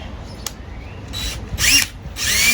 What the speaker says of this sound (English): I just use a 20 volt max drill I put in my auger and